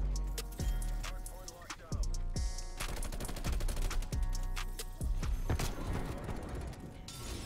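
Rapid gunfire and shotgun blasts from the online shooter Call of Duty Vanguard crack in quick bursts with short gaps, mixed with clicking weapon handling and reload mechanics, loud and close throughout.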